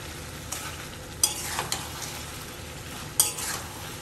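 Chicken masala stirred in a frying pan, with a low steady sizzle and a few sharp metal spoon scrapes and taps against the pan, close and fairly quiet, without any talking.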